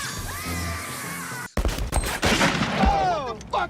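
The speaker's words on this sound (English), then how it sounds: "I shot Marvin in the face" A single sharp gunshot in a Pulp Fiction film scene lands abruptly after a tense, music-backed lead-in, followed at once by shouting and agitated voices.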